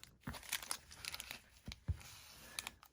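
A Flesh and Blood Monarch 1st Edition booster box wrapper being torn open, with quick crinkling and tearing bursts in short irregular rips, close and fairly quiet.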